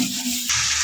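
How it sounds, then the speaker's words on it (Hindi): Peas frying in oil and masala for aloo matar, a brief loud sizzle with a sudden hiss as they are stirred in the pan. "अब इसकी हम थोड़ी सी बुनाई करेंगे"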